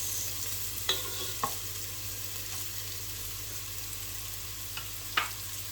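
A mushroom pasta sauce simmers in a pan under a low, steady sizzle, with a few soft spoon taps as it is stirred, no speech.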